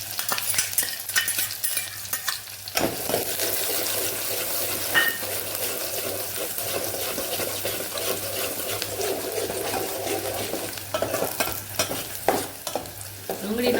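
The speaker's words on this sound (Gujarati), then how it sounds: "જે ડુંગળી સુધારેલી આપણે અહીંયા ઉમેરી દઈશું અને સરસ સાતળી દઈશું" Chopped onion, cumin and whole spices sauté in hot oil for a Kathiyawadi dhaba-style curry, a continuous close sizzle with frequent stirring scrapes and occasional clinks of the pan.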